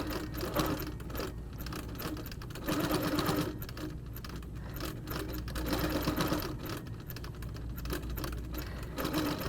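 Sewing machine stitching quilting lines along a 6 x 0.5 inch line grid ruler, a close, steady mechanical whirr of rapid needle strokes running continuously, with slight rises and dips in speed.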